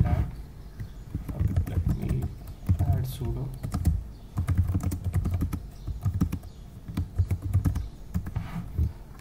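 Rapid clattering keystrokes on a computer keyboard while a sudo command is entered during LDAP setup for GitLab, steady and close, with a person talking over them at times.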